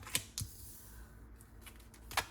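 Playing cards are handled close up in a quiet room: a few sharp flicks and snaps, with faint shuffling in between.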